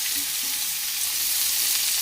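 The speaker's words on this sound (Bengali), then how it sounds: "এঁচোড়টা একটু লাল লাল করে ভেজে নিই" Young jackfruit with potato frying in oil in a kadai, a steady close hiss and crackle of sizzling that holds evenly throughout with no voices.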